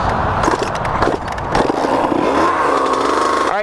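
A motorcycle engine running rough after blowing up, with a steady, uneven, sputtering drone and a pitch that wavers and dips near the end, heard alone without talk.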